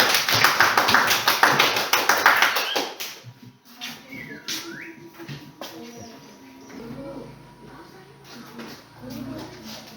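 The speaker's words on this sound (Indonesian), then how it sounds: "Tepuk tangan dulu untuk kelompok 1." A classroom of pupils claps for the first group, a dense burst of rapid clapping that fades after about three seconds, followed by quieter murmurs and room noise.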